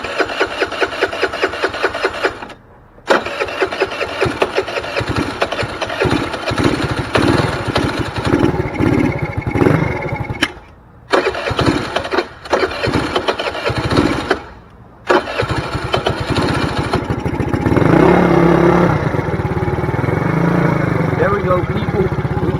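A small engine fitted with a big bore kit, low on gas, cranking repeatedly in sputtering bursts with brief pauses before catching and running on, as a voice talks over it.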